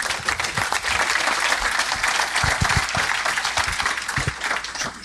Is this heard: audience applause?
yes